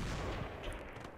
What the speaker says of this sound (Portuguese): Só escuta os tiros passando